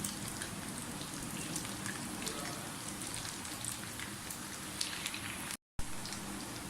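Potato pieces fry in hot oil for a dish of Kashmiri dum aloo, giving a steady, fairly quiet crackling sizzle with a short break near the end.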